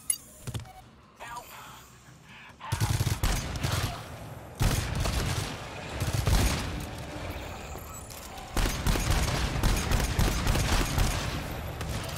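A sentry gun in the video game GTFO fires in rapid bursts that come and go across the stretch, mixed with other gunfire and game noise, while players talk over it.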